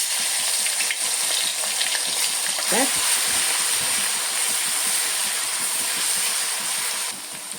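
Crushed ginger and garlic with cumin seeds sizzling in hot oil for a chicken roast, a loud, steady crackling fry filling the whole stretch, close up, with a brief stirring scrape partway through and no talk.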